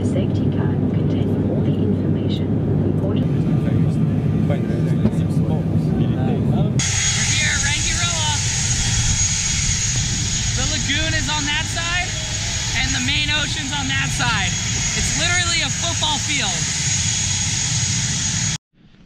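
A small airplane flies over islands and atolls in Rangiroa, its engine drone continuous and loud inside the cabin, with a voice talking over the steady noise.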